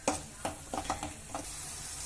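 Chili masala is sautéed and stirred in a pan for village-style country chicken sambar. Several scraping strokes of a spatula cut through a steady, close sizzle, with no talking.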